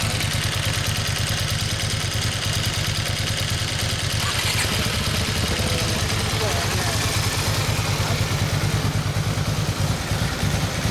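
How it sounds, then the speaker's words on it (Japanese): A 2003 Ducati 1000DS Multistrada with a recently replaced clutch runs steadily nearby, its engine putting out a constant, loud, throbbing rumble with a clattery mechanical edge throughout. "エンジン音聞かせてもらえますか？"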